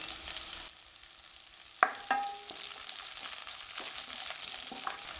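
Onions and garlic quietly sizzle in hot oil in a pan, with a few clinks and scrapes of a spoon stirring them.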